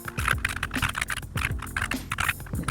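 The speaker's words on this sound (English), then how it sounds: "Next step, we are going to type," Close, steady typing on a computer keyboard while setting up a dual boot of SteamOS alongside Windows on a handheld gaming PC, a run of quick key clicks with an irregular rhythm and no voices.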